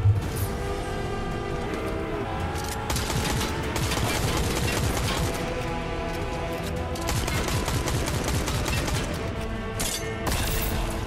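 Sustained automatic gunfire in a Fortnite match, fast rattling volleys from close range that continue for several seconds with short pauses between bursts, loud with no talking.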